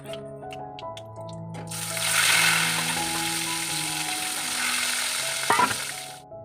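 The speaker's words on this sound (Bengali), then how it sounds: "তো এখন ওই ভোলা মাছগুলো ভেজে নিচ্ছি।" Bhola fish fry in a pan, starting with a sudden loud sizzle that holds steady for several seconds and then fades, close by, with faint background tones and a clatter near the end.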